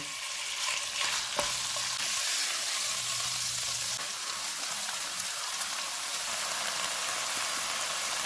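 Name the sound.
beef mince frying in oil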